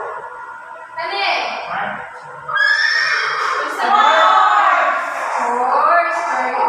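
A horse neighs and whinnies in several long, wavering calls, loud and close, with a brief child-like voice nearby between the calls.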